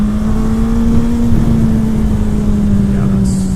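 Motorcycle engine, Suzuki Hayabusa or Gixxer, pulling hard under open throttle on a ride, a loud steady drone whose pitch climbs slightly then holds, with wind rush throughout and no talk.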